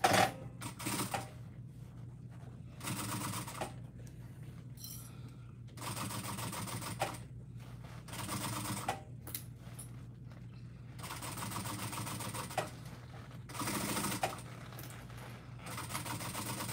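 A sewing machine top stitching a tote bag, running in several short bursts of fast mechanical whirring, separated by quiet pauses, close by and without talk.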